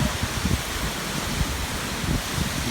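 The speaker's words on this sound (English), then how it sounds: "About 100 miles per hour winds right now." Roaring hurricane winds at around 100 mph buffet the microphone in a steady, loud broadband rush with heavy low gusting thumps throughout.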